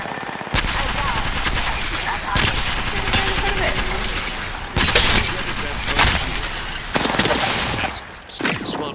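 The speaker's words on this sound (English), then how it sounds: "Opening fire on our prey." Automatic weapon fire in the video game Apex Legends, loud sustained bursts of rapid shots broken by brief pauses, with sharp sudden onsets and crackling impacts filling the whole stretch.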